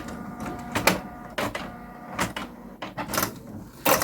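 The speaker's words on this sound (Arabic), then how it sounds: "بحط الورقة هنا كده واقفل عليها وهندوس اوكي، وتاخد اول اوردر لطباعة" Desktop printer running a first print of a page, with several short mechanical bursts of paper feed and print-head clatter separated by quieter motor whirring, close by with no talk.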